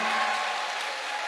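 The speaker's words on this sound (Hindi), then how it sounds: "जोरदार तालियां होनी चाहिए" Crowd of attendees at a large Hindi-language organizational gathering clapping together, a dense steady wash of applause that holds evenly for the whole moment with no voices above it.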